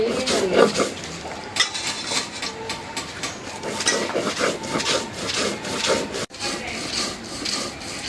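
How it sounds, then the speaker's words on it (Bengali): Sesame seeds are ground into paste on a flat grinding stone, making a repeated rough rubbing and scraping of stone on stone, close and fairly loud, with brief faint voices in the background. "এটাই শুরু করে দিলাম তিল বাটা"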